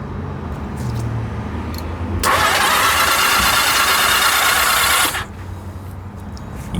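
A Honda Nighthawk motorcycle engine cranks and catches, running loudly for about three seconds before cutting back, heard close and alone without talk.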